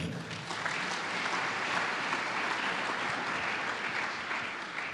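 A church congregation applauds together in sustained, even clapping that fills the room, steady and fairly distant, with faint voices mixed beneath.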